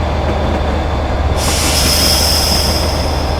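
Royal Train running on rails through a tunnel, a steady loud rolling roar that swells with a sharp high hiss and wheel squeal partway through, continuous with no talk.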